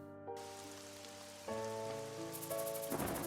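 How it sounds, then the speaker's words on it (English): Heavy rain pours in the video game Troubleshooter, a broad wash of hiss under sustained musical tones that swells louder midway and keeps going to the end. "After a few thunderstorms and a gloomy sky, it started to pour rain."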